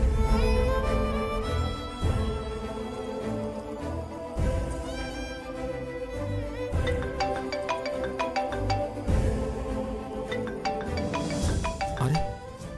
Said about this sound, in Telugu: అరే, అక్షర ఫోన్ చేస్తుందండి.